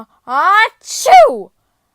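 A storyteller's voice imitates a bear's enormous sneeze, a loud two-part ah-choo with a sharp rising burst in the second half, then silence.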